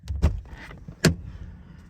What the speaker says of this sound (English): I can use my hurt left hand to open my car door